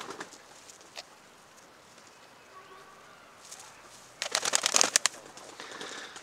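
Tumbler pigeon chicks eating feed: faint rustling and a few soft taps, then a flurry of quick, close pecking clicks near the end, with occasional cooing.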